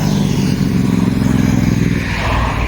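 A steady low rumble of engines and passing vehicles, loud and continuous, like heavy highway traffic on the nearby Thiruvannamalai–Chennai road.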